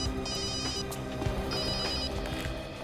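A telephone rings in repeated bursts, a steady electronic bell tone that keeps going at moderate loudness over a dense background.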